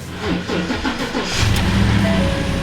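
A high-mileage Ford Raptor pickup's engine cranks briefly and then catches, settling into a loud, steady idle close to the listener.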